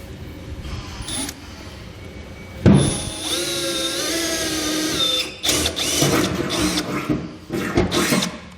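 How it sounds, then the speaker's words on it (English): A drill bores through a truck bed with a pilot bit during an underbed fifth wheel hitch installation, a whining motor rising in pitch as it bites, then several rough bursts near the end as it pushes through. "I'll go ahead and use my pilot bit to continue to drill all the way through."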